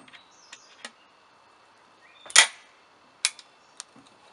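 A Lazer Arms XT7 single-barrel 12 gauge shotgun fires a .357 round through a Chiappa X-Caliber adapter, one sharp loud crack outdoors followed by a few fainter clicks and bird chirps.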